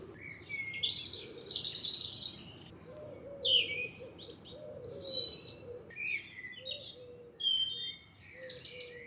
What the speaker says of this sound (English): I can hear some birds over here.